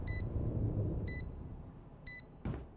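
An alarm goes off in a competitive esports match: three short, bright electronic beep bursts spaced about a second apart, quiet beneath steady game noise, then ending on a brief soft thump.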